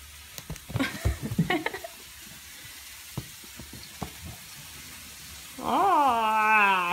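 A few clinks and taps of cookware, then a steady loud sizzle of food frying in a pan begins near the end.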